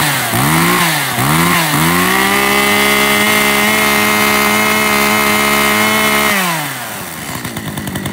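A Japanese 40cc chainsaw engine on a test run, revved in two short blips, then held at a steady loud high idle for several seconds before winding down, heard alone with no voices.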